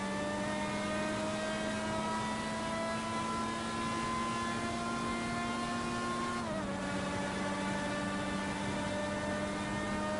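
IndyCar race cars at the start of the Indianapolis 500, a steady whining engine drone with strong harmonics that drops in pitch partway through as the cars pass, continuous and fairly loud.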